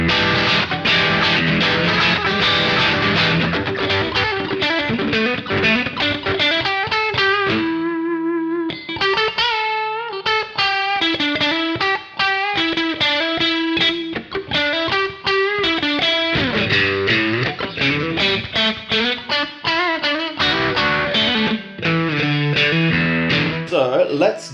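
A Fender American Ultra Stratocaster electric guitar with heavy distortion plays riffs and sustained chords, thick and saturated, with a few short pauses between phrases.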